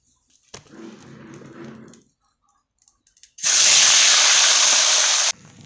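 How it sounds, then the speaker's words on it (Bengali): Rohu fish pieces coated with salt and turmeric hit hot oil with a loud, steady hiss of frying that holds for about two seconds after a quieter stretch of handling and background music. "এবার এটা লবণ হলুদ মাখিয়ে ভেজে নেবো।"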